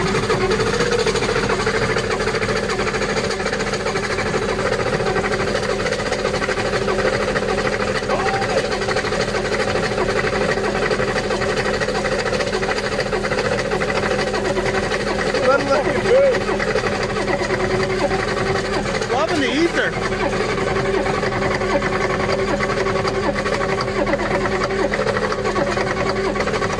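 A starter cranks a cold engine fitted with a block heater, giving a steady, loud mechanical whir and rumble that runs unbroken for nearly half a minute with no clean start.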